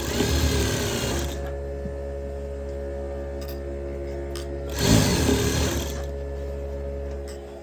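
An electric sewing machine stitches a blouse neck piece in two close, steady whirring bursts, the first at the start and the second a few seconds later, with a low motor hum between them.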